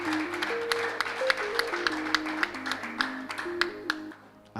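Clapping and joyful ululation in a church fill the space, a busy wash of hand claps with a wavering high trill of voices rising and falling throughout, then fading briefly at the end.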